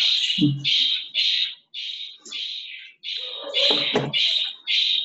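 A parrot squawks repeatedly in the background of an online class, giving about ten harsh, evenly spaced calls over a few seconds, with brief bursts of voices and clatter mixed in.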